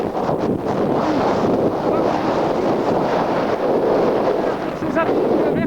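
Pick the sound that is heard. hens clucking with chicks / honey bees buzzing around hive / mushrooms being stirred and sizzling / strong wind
strong wind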